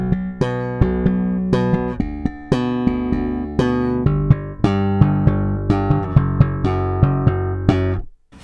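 Slapped bass guitar played through a tube pedal with no overdrive, loud and close: percussive thumped and popped notes in a quick, syncopated rhythm with a steady run of sharp attacks, clean tone, no voices.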